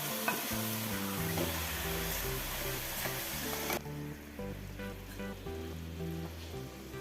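Chicken pieces frying in a pan with plenty of tomatoes for a Kerala roasted-coconut chicken curry, a steady close sizzle with stirring scrapes, over background music that drops partway through.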